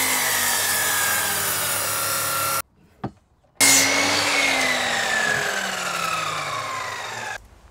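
A Japanese hand saw cuts freehand through a firmly clamped wooden workpiece for a handrail, giving steady, continuous rasping strokes up close, broken by a short pause before the sawing resumes.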